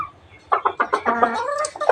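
A caged chicken clucks in a quick series of short, close calls, with a few softer notes trailing after.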